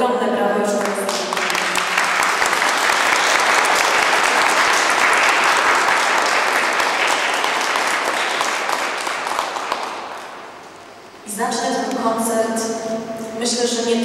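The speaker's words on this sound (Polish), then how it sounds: "Dlatego ogromne brawo już." A concert audience at a patriotic song event breaks into loud, sustained applause lasting about ten seconds, fading briefly before a voice speaks over renewed clapping.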